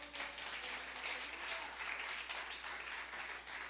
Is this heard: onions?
no